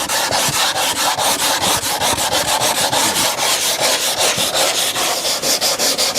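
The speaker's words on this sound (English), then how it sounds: "not to sand just in little strokes like this" Hand sanding a wooden table top with rapid back-and-forth strokes, a steady rhythmic scratchy rasp heard close and alone.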